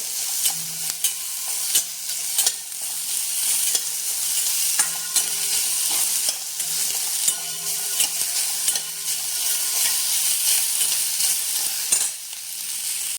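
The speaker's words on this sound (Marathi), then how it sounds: "कांदा थोडासा मऊ आणि लालसर झाला की गॅस बंद करायचा।" Onion sizzles and fries in a pan for misal, with repeated clinking stirs of a utensil over a steady crackling hiss. No voices.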